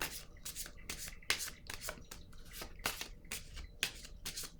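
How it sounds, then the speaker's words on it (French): Cards are shuffled and laid out by hand during a card reading: a rapid series of close, crisp riffling and sliding bursts with soft taps, uneven in rhythm, at low volume with no talk. "Je vais déposer une carte en cette zone."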